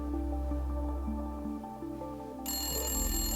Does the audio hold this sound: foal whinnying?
no